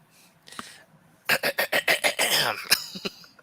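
A burst of several sharp coughs in quick succession, close and fairly loud, followed by a couple of softer coughs.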